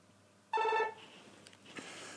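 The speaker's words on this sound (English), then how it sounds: "Oops, phone." A telephone rings once with a short, bright electronic trill, loud against a quiet room, then fades into faint background noise with a few soft knocks.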